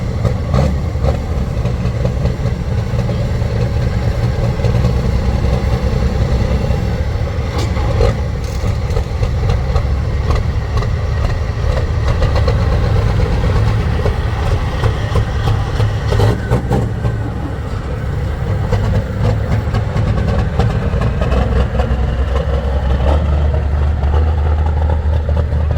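A cab-over semi truck idles at a speedway truck racing event, its engine a loud, steady low rumble holding for the whole stretch with faint crowd and track noise around it.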